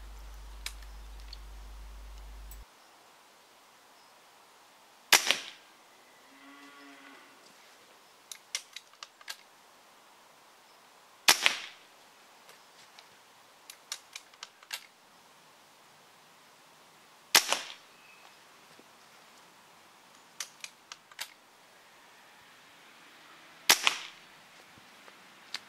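Weihrauch HW97 air rifle fired five times over a chronograph, each shot a sharp, loud crack spaced several seconds apart, with small clicks and mechanical handling noises between shots.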